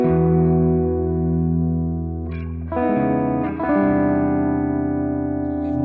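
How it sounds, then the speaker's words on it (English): Sustained electric chords wash out through clear reverb brightened with added treble, ringing long tails that overlap as a new chord is struck around the middle, loud and close with no talking. "sometimes you like some clear reverb that goes out of the mix, and you can achieve it like that"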